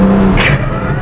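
A Porsche 911 GTS flat-six engine revs sharply on a downshift, heard loud and near from inside the car with the window down, a steady engine drone broken by a quick throttle blip.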